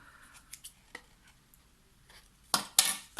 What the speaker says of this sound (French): je vais juste arrondir les angles d'un petit coup de ciseau rapide